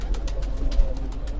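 A pigeon coos on a rooftop in Gujarat, soft repeated throaty calls close by, with faint clicks and low outdoor rumble underneath and no talking.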